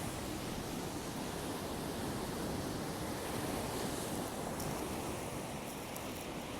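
Surf rolls steadily onto the Jersey Shore, a dense, continuous wash of breaking waves with some wind, loud and unbroken throughout with no voices.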